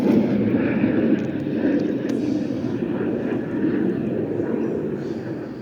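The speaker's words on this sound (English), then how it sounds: "Oh, jet." A jet roars steadily overhead in a broad, continuous rush of sound, moderately loud and sustained throughout.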